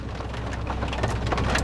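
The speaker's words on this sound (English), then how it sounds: "It's pouring rain, as you can tell." Pouring rain makes a dense, steady hiss and patter that continues unbroken throughout, with no one talking.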